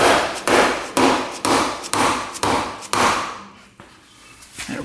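Rapid series of about eight sharp, loud hammer-like knocks on a stuck plastic ATV cover, evenly spaced and close up, then a brief quieter pause with a final faint tap.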